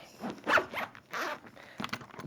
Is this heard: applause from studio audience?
no